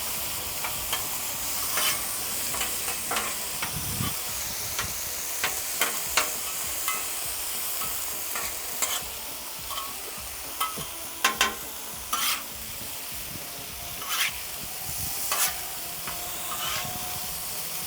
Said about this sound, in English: that griddle is really running right now